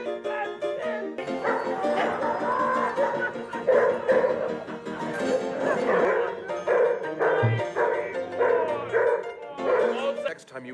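Dogs bark and yip repeatedly over loud orchestral music and voices in a scene from the 1984 film Amadeus, the barks mixed in rather than standing alone.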